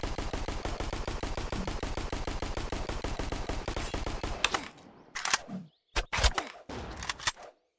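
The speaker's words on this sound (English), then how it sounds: "Let's take this weapon, the MP5. Not only is this the quietest weapon in the game for some reason," Rapid automatic MP5 gunfire in a Roblox video game, a long fast string of evenly spaced shots for about four seconds, followed by a few short bursts and isolated blasts.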